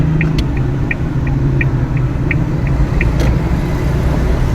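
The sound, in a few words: car being driven slowly forward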